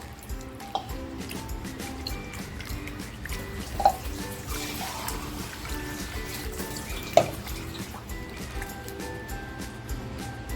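Running water trickling and splashing as small fish are washed clean under a tap, with a few sharp clinks against a dish.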